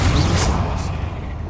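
Confringo fire spell blast from Hogwarts Legacy: a dense, rumbling low boom with two quick whooshing bursts early on, fading slightly over a second and a half.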